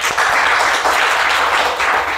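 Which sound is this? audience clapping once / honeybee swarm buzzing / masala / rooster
audience clapping once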